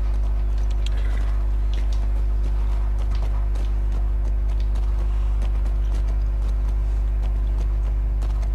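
Horses ridden at a walk in The Last of Us Part 2 produce continuous clip-clopping hooves on the ground, a steady rhythmic patter close by over a low constant rumble.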